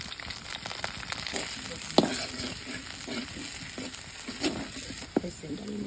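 Garlic and onion paste frying in a pot for mashkalai dal, a soft steady sizzle with a few spoon scrapes and taps on the metal, close and moderately quiet.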